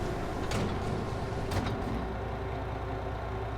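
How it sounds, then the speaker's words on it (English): Doors close in the farming game Farming Simulator 22, two short muffled thuds over a constant low engine-like rumble. "Close the doors."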